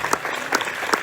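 A church congregation at a sermon in Faisalabad claps hands together, a dense, crowded patter of applause with a few sharper peaks.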